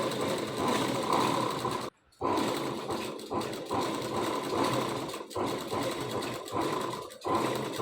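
Domestic sewing machine stitching a folded kurti sleeve seam, running in a steady continuous whir with brief stops and restarts, close and fairly loud with no talking.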